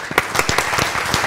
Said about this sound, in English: I'd like to thank, applaud again to Secretary General, Ambassador Ong Keng Yong, please